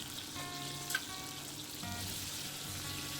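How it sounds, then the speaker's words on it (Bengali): Lima beans frying in hot oil, a soft continuous sizzle and crackle with a few brief clinks and faint metallic tones from the pan, heard close up and without speech. "তেল গরম হতেই শিমগুলো দিয়ে দেব, দিয়ে ভেজে নেব।"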